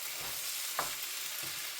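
Sliced chicken strips fry in a pan with a steady, bright sizzle throughout, close and even, with a brief stir or scrape partway through.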